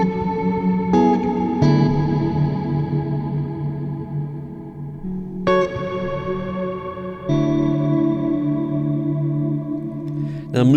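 A reverb pedal on a guitar or instrument signal switched off and on. Sustained chords ring out, with reverberant tails swelling and falling away as the effect cuts in and out over several passes.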